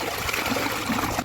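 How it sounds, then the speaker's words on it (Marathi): Water flows through a farm irrigation channel with a steady close trickling and gurgling rush. "पाणी एवढं चालतंय बघा."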